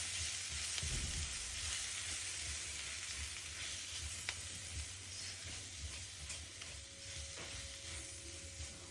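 Onions sautéing in a pan with spice powders for a pork pepper fry, a steady broadband sizzle with occasional stirring scrapes, close and continuous, no talking.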